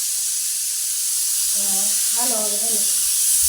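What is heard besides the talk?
pressure cooker whistling while cooking vegetables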